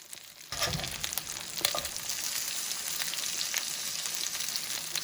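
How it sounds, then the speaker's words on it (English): Red potatoes sizzle and crackle steadily in hot oil after a sudden start, a dense hissing fry with occasional sharper pops, close and fairly loud. "While the potatoes are frying, I go ahead and flip the chicken."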